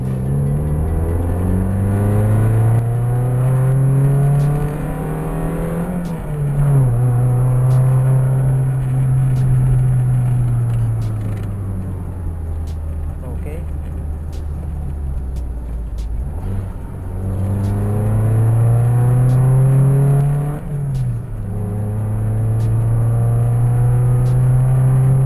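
A Ford Lynx 1.8-litre BP engine pulls hard through the gears, revving up repeatedly with rising pitch and dropping at each shift, a steady in-cabin drone with no voices.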